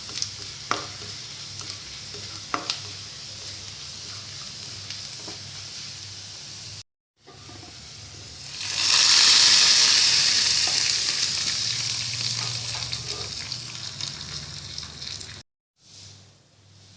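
Curry leaves and dried red chillies fry in hot oil for a tempering, a quiet crackle first, then a loud, bright sizzling surge that slowly fades, with stirring clinks and short breaks.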